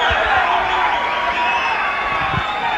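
A large arena crowd at a kickboxing bout roars in a dense, loud, continuous wash of voices, sounding restless and displeased after a knockdown count.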